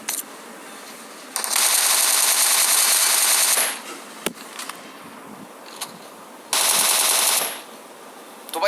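Automatic gunfire in the PUBG video game comes as two loud sustained bursts of rapid shots, each lasting about two seconds, with a single sharp crack between them and quiet game ambience around.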